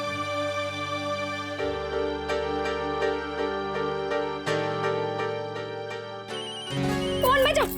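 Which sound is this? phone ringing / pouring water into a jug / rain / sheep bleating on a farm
phone ringing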